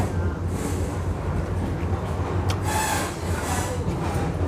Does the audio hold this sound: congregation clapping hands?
no